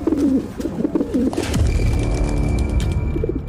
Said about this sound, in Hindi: ये तो कबूतर जैसे किसी पक्षी की आवाज लग रही थी